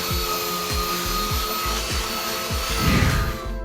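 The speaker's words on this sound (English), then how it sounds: "I'm gonna take the sofa apart and sand everything flush with my belt sander" A belt sander whirs against the wood of a 2x4 sofa with a steady motor drone and rhythmic rubbing strokes, growing rougher near the end.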